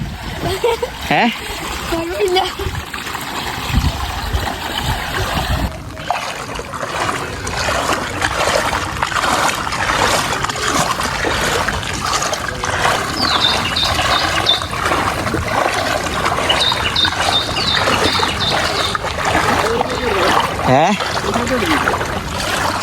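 Water splashes and sloshes as someone wades through village flood water after heavy rain, the churning continuous and close while people talk over it.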